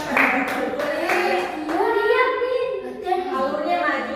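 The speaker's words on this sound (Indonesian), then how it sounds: "Ya, tepuk tangan." A classroom of children claps together in quick, uneven bursts while young voices chatter and call out over the clapping.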